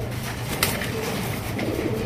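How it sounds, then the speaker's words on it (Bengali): Fantail and Lahori pigeons at close range give a soft cooing call over a steady background murmur, all within two brief seconds. "অরিজিনাল ফ্যান্টাল কবুতর বিশাল সাইজের মধ্যে।"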